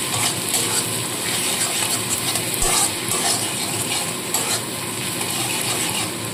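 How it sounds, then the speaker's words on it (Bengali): Spices being stirred into a small fish curry in a hot pan, with a continuous sizzling hiss broken by scraping and clacking of a spoon against the pan. "দিয়ে আবারও নাড়াচাড়া করে নেব"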